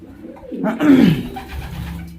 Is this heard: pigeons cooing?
yes